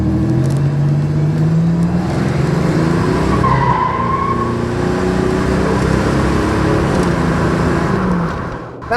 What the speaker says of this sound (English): That was like half throttle, and obviously it broke the rear tire loose